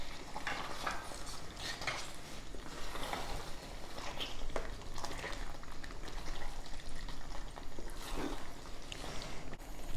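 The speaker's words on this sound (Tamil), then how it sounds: "சிக்கன் போட்டு ஒரு 10 மினிட்ஸ் நல்லா வதக்கியாச்சு" Chicken pieces sizzle and fry in masala for a kurma, a steady crackling sputter with occasional scrapes and clinks of a stirring spoon against the pan, close and continuous, with no talking.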